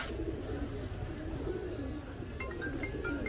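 Pigeons coo softly nearby while being fed grain, low murmuring calls over a steady background, with no talk.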